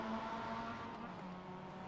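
A Mazda race car in a racing video game drones at a steady engine pitch, a continuous mid-level hum with no clear revving or passing.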